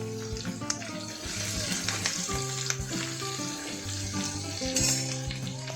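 Curry leaves and green masala paste sizzle in a hot pan with a steady, fairly loud frying hiss, punctuated by a few light knocks while background music plays throughout.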